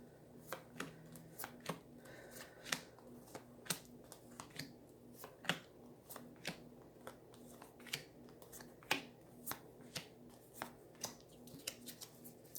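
Tarot cards are shuffled by hand for a reading spread. Crisp snaps and riffles come in an irregular series across the clip, close but quiet, over a faint background hum.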